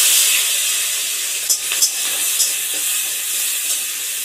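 Shrimp sizzle in hot oil in a wok with turmeric and salt, a steady bright frying hiss with a few small crackles and pops over it.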